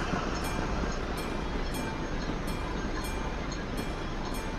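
A train rolls past in the Euro Truck Simulator 2 game, a steady loud rumble with faint regular clicks from the wagons going by, heard with no talking.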